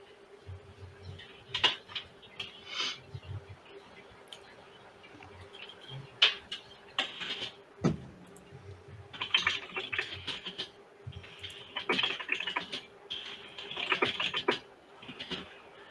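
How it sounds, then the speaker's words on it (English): Loud keyboard typing comes through as scattered bursts of sharp clicks and clacks, irregular and close, with a faint steady hum underneath. "That is a loud keyboard."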